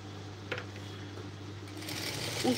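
A domestic sewing machine stitches a blouse, its steady low motor hum running throughout with a faint mechanical rattle, picking up slightly toward the end; close and fairly quiet with no talk.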